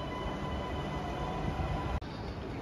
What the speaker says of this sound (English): The metro is passing through the station.